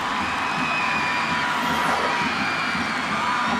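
A high school football crowd at the 1998 Class BB state final between Menominee and Haslett cheers and shouts in a broad, sustained roar that stays loud and even from start to finish.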